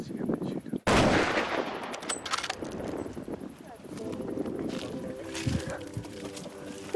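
A single sharp, loud gunshot cracks out early during a hunt in the open, followed by a stretch of outdoor ambience with faint birds and quiet voices.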